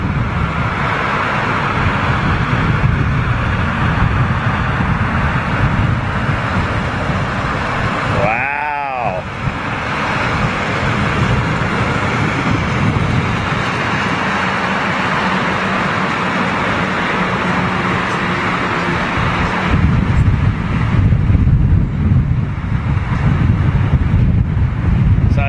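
Strong crosswind roars across the microphone at London Heathrow airport, a loud, continuous buffeting rumble that swells again near the end, with a brief dropout midway.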